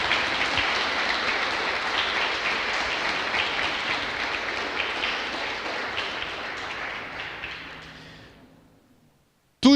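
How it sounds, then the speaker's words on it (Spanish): A church congregation applauds in praise during a Spanish-language service: sustained, dense clapping from many hands that holds steady for about eight seconds, then thins and fades out. "Podemos darle un aplauso a nuestro Señor Jesucristo, por favor."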